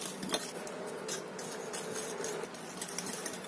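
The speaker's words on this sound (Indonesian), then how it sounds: "Kita aduk lagi sampai tercampur rata dulu." A spoon stirs sago coconut cookie dough in a bowl after an egg yolk is added, giving a steady scraping and mixing sound with small clinks against the bowl. It is close, fairly quiet, continuous, and has no talk.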